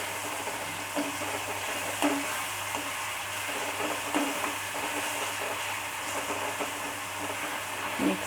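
Garlic and dry red chili paste sizzle in oil over a low flame, giving a steady close crackle with soft periodic stirring scrapes roughly every second and no voices.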